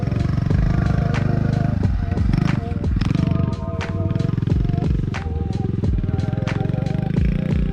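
A dirt bike engine running as a first-time woman rider takes it out, its pitch rising and falling with throttle changes and broken by repeated sharp clattering hits.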